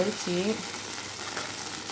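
Pongal tossed back into a hot kadai and stirred, giving a soft, steady sizzle with a brief voice-like tone at the start.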